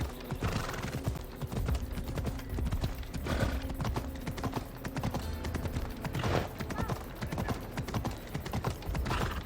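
Horse hooves clip-clopping in Assassin's Creed Odyssey, a steady close rhythm of hoofbeats with a few whinnies and some game ambience mixed in.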